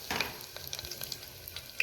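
Curry leaves dropped into hot oil already holding cloves, star anise and bay leaves for tempering a potato curry, giving a close, crackling sizzle with scattered sharp pops.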